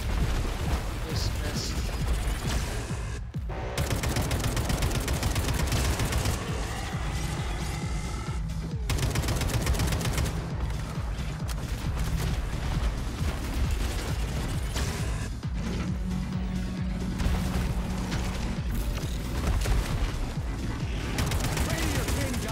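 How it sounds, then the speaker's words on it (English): Dense, sustained gunfire in the shooter game Atomic Heart, rapid automatic bursts and heavy impacts with brief gaps, continuous and loud with a voice talking intermittently underneath. "I'm just gonna keep emptying clips into this guy."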